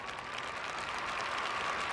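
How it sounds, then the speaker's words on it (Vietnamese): Audience applause at a televised Vietnamese charity game show event, steady dense clapping from a crowd filling the whole two seconds, loud and close with no talk over it. "Một lần nữa chúng ta vỗ tay thật lớn để chúc mừng cho 1 phút 28 giây."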